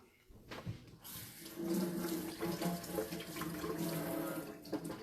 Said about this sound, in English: So you kind of cut them open and you want to give them a rinse.